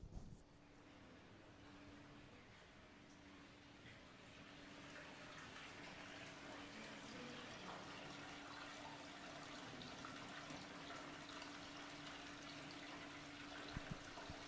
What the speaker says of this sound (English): You'll hear the water kind of rushing through the spring.